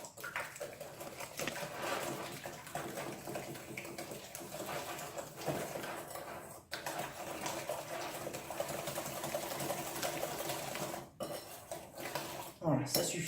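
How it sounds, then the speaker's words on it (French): A whisk beats eggs into caster sugar in a bowl for a bread pudding made from stale bread, giving continuous rapid clattering and scraping for over ten seconds, with two brief pauses and a short burst of knocking at the end. "Et je vais les ajouter dans mon sucre en poudre. Là, je vais fouetter le tout."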